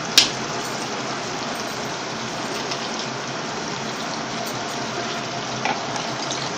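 Water poured into a pot of chickpea masala for khichdi, a steady broadband rushing splash that runs unbroken for several seconds at close range, with no talk over it.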